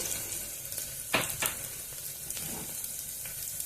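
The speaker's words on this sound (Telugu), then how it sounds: "కొంచెం అల్లం వెల్లుల్లి పచ్చిన వాసన పోయేంత వరకు వేయించుకున్నాము" Ginger garlic paste fries with onions in oil in a pan as coconut milk rice is being prepared, giving a steady close sizzle with a couple of stirring scrapes and no talk.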